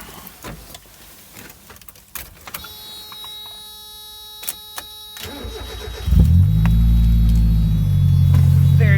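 Mazda Miata project car with a suspected exhaust leak: clicks and a whirring crank, then the engine catches around midway and settles into a loud, steady idle with a rumbling low drone.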